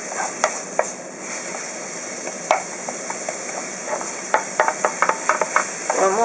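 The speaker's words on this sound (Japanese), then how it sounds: "これしんなりしてね、ネギの香りが出るぐらいまでしっかり炒めていきますね。" Green onions stir-fry in a pan for negi miso, with a soft continuous sizzle broken by frequent sharp clicks and scrapes of a utensil against the pan, close and fairly loud.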